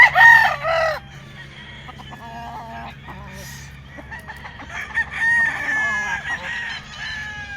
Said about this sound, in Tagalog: Papakita ko sa inyo yung mga hen. Napakaraming hen.